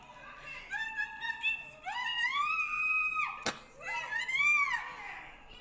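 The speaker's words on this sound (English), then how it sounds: "Let's get one more play of me screaming." A woman lets out repeated loud, high-pitched screams with rising and falling pitch, in several long sustained bursts with a sharp thump partway through.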